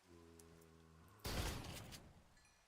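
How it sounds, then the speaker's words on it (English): A burst of gunfire in SRP modded Minecraft, shooting Buglins, crackles in a sudden dense volley after a low droning hum, then fades into a brief tail. "you hear that gunfire?"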